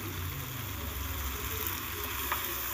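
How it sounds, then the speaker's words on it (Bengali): Ivy gourd (kundru) sizzles steadily as it fries in a pan, a constant hiss with faint scraping as it is stirred, heard close up and alone. "এবার আমি নেড়ে চেড়ে তিন থেকে চার মিনিট আমি ভালো করে একটু ভাজা ভাজা করে নেব"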